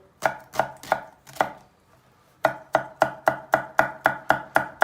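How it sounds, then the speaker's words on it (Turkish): A knife finely chops vegetables rapidly on a board in quick, even strokes, pausing briefly before resuming a steady, close chopping rhythm. "Bunda elimizden geldiği kadar malzemelerini çok ince doğrayacağız."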